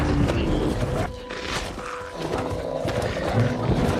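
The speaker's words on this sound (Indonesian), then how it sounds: "Beruang itu terus menggigit dan mencakarnya." A bear mauling a man in a film scene, with loud, continuous growling and roaring that stays dense and close throughout, backed by tense dramatic music.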